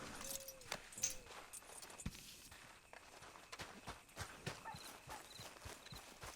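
Horse hooves clip-clop at a steady walking rhythm in a video game, crisp repeated thuds with a few light jingling tack sounds and a short neigh, fairly quiet overall.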